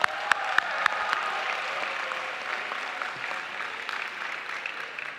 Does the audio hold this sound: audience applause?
yes